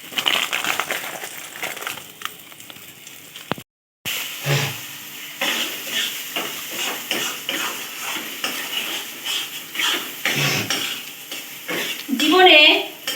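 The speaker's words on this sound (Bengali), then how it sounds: "এদিকে তাওয়াটা, ফ্রাই প্যানটা আর কি গরম হয়ে গেছে, আমি একটু কসুরি মেথি ড্রাই রোস্ট করে নেব।" Kasuri methi dry roasting in a hot frying pan gives a dense, steady crackle and sizzle with scraping and stirring clatter throughout, briefly cutting out before resuming, with a louder burst of scraping near the end.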